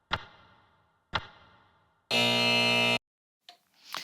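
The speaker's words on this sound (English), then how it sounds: "I feel like that buzzer's like saying wrong answer" A harsh electronic buzzer sounds a wrong-answer tone, one sustained flat blare lasting under a second, preceded by two sharp knocks and followed by brief faint noises.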